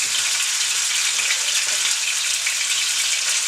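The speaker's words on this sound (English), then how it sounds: "You gotta hear it sizzle or else you're just not browning your roast good enough." Steady, loud hiss and crackle of a beef chuck roast searing in a hot pan, continuous with no talking.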